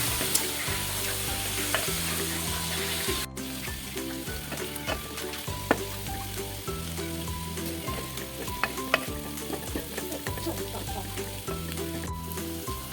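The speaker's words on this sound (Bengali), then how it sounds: "চার পাঁচ মিনিট নাড়াচাড়া করলে পাতাটা হয়ে যাবে ভাজিটা হয়ে যাবে" Thankuni leaves stir-fried in a small home-kitchen pan, a steady close sizzle and hiss running throughout with repeated scraping and stirring clinks of a spatula, no voices.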